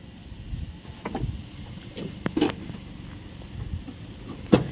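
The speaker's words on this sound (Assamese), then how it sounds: "এতিয়াহে অলপ বতাহ লাগিছে" Wind gusts outdoors, buffeting in a low, uneven rumble with a few sharp knocks and thumps now and then.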